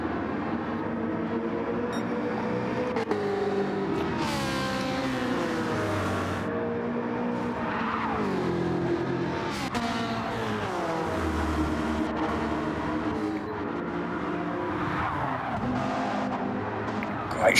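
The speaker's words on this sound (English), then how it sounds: "the camera watches the cars going through from behind, through the chicane. Oh, and sideways" Touring race cars in an Ultimate Racing League round at DT Seaside pass through a chicane one after another, engines rising and falling in repeated loud surges, with tyres squealing as one slides sideways and a commentator talking over it.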